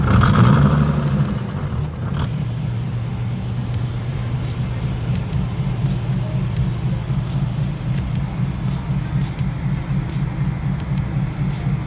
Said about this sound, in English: You can hear the manifold leak though